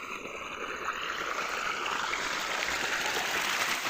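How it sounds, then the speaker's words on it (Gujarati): Water from a borewell tank pours steadily into a castor field, a continuous hissing, gurgling rush that stays even and moderately close throughout with no talking. "આ પાણી આવે છે અહીંયાથી"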